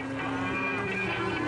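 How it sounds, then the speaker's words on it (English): A herd of cows heading back to their barns for winter moos on a mountain road in Tajikistan, with sustained overlapping lowing calls near and loud against the outdoor background. "His truck is slowed by numerous herds of cows returning to their barns for the winter."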